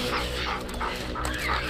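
In The Last of Us Part 2, a dog barks and whimpers in quick bursts, fairly close, amid dense combat noise and game music.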